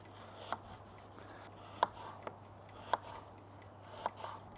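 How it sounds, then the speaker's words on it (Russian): A knife cuts crisply through apples in about four sharp, evenly spaced slices against a quiet background. "нарезаем яблоки дольками"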